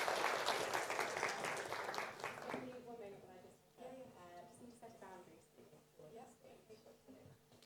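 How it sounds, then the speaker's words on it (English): Audience applause for a student volunteer at a talk on the digital future of surgery at a festival of artificial intelligence, a dense clapping burst for the first few seconds that dies away as a person starts talking. "Give a round of applause to Edie"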